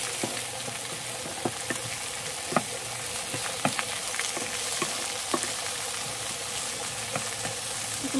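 Onion sizzles steadily in a hot pan for pork adobo, an even frying hiss broken by occasional small pops and stirring clicks, with no voices.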